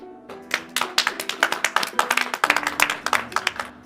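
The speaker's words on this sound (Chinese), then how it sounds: "现在我们以热烈的掌声欢迎市教育局的泰斗刘忠良刘老。" A group of people in a school give a welcoming round of applause for an honored elder guest, a brisk, dense run of clapping close by with a faint steady tone underneath.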